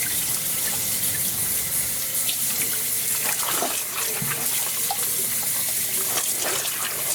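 Cold tap water runs steadily into a sink, rinsing mango and watermelon juice off hand-dyed cross stitch linen, a continuous close splashing gush with no talk.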